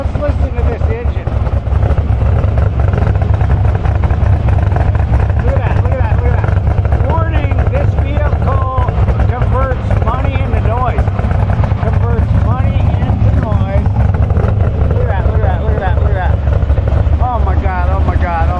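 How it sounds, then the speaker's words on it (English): A loud autocross race car engine roars continuously nearby, rising and falling in pitch as it revs, with wind rushing and a voice talking underneath. "Let's listen to this engine."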